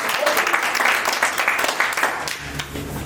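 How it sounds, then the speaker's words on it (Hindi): An indoor audience at a Hindi-language motivational seminar breaks into loud, sustained applause, dense clapping filling the room throughout without a break. "जोरदार ताली आपके लिए।"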